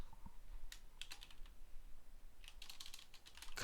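Computer keyboard keys tapped in quick clusters while a Control W shortcut is pressed during Unreal Engine work, with faint, close clicks separated by short gaps and no talking.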